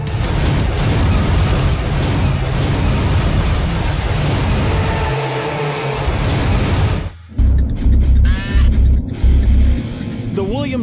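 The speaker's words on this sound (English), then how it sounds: "When the race starts, the vehicles come blazing around the track." Powerful sprint cars racing around the quarter-mile dirt track at Williams Grove Speedway, a loud roaring engine drone that dips briefly, then returns in heavy surging bursts, with a voice speaking over it.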